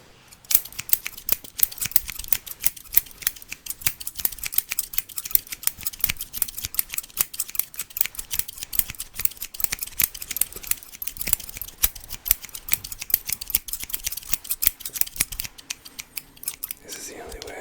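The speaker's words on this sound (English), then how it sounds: "This is the only way I could possibly think to speed up the snipping process." Barber scissors snip hair rapidly and continuously during a haircut, a dense, close, crisp run of cuts lasting throughout with a faint voice beneath.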